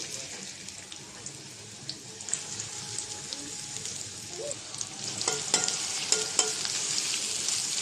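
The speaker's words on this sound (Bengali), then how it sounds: "পেঁয়াজটা আগে একটু হালকা করে ভেজে নেব, তারপরে চিংড়ি মাছ দেব" Chopped onions frying in oil in a wok for a prawn curry, a steady broadband sizzle with occasional stirring scrapes and clinks, growing louder toward the end, no voices.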